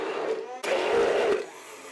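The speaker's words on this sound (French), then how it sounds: "coupez les fruits en morceaux et passez le tout au mixeur" A blender whirs through tomato pieces, a loud steady motor drone that cuts off briefly and restarts, then eases down toward the end.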